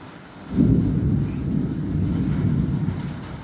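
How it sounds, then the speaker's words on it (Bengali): Steady rain falls, and a deep, loud rumble of thunder swells in after a quiet half-second and keeps rolling for about three seconds, with no talking. "এই যে বৃষ্টি হচ্ছে"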